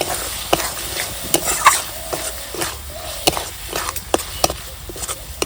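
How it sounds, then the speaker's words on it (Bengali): Vegetables frying with Maggi masala are stirred in a pan, a spatula scraping and clacking in irregular sharp strokes over a soft, continuous sizzle, close and fairly loud with no talking. "এবার ভালোভাবে মিশিয়ে নেব"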